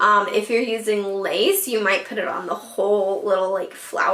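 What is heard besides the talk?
No everyday noises stand out.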